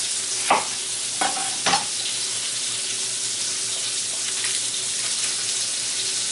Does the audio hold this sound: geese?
no